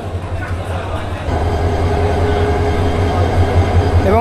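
The 2607 locomotive of the 2600 series, hauling the Udayan Express from Chattogram to Sylhet, idles while warming up: a steady low diesel rumble that swells louder after the first second, with people murmuring nearby.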